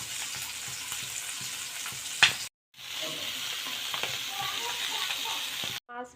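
Tatkini fish fry in a pan of hot oil with a steady, bright crackling sizzle and occasional stirring clatter; the sound cuts out briefly twice, then resumes at the same close, even intensity.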